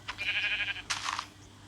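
Two short bleats from goats or sheep in the video game Minecraft, close and clear, the first a sustained nasal cry and the second a shorter wavering one, with no talking.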